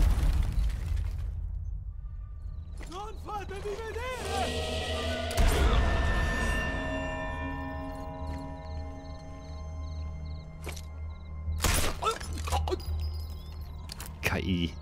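A grenade goes off in Sniper Elite 4 with a heavy booming blast and rumbling debris, set among ongoing game sounds, a whirring tone and other sharp in-game noises.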